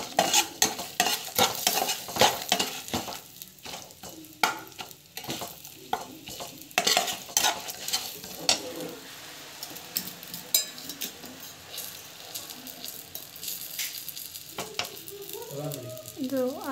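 Puliyogare masala sautés in a pan, an uneven sizzle broken by frequent loud scrapes and knocks of a spoon stirring against the metal, close and busy throughout, with no talk.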